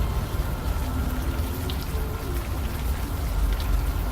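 Steady rain falls in the adventure game Unavowed, a continuous even patter of drops with a soft low rumble beneath, no talk.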